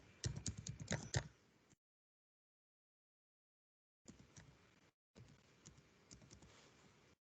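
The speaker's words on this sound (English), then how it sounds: "So I'm going to type in my email address." Keys on a computer keyboard clatter nearby as an email address is typed, quiet clicky bursts broken by a long silent gap and a short pause.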